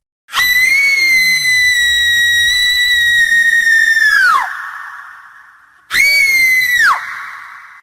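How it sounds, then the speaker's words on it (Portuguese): Two loud, piercing, sustained screams ring out close up. The first is long and ends in a falling wail, and the second is shorter. Both are heard alone with no talk. "Gritos tão altos, capazes de perfurar os tímpanos de qualquer pessoa"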